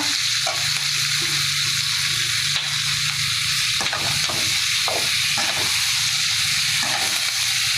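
Steady, loud sizzling and crackling of curry leaves frying in hot oil for kara chutney, continuous throughout with occasional stirring sounds.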